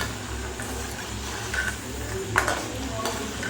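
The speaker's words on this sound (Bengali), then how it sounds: "বাদামগুলো ভাজার সময় অবশ্যই কিন্তু হাতা দিয়ে এরকম করে উল্টে পাল্টে ভেজে নিতে হবে" Peanuts fry in oil over a low-to-medium gas flame, a steady soft sizzle broken by a few scraping, clinking strokes as a ladle turns them over in the pan.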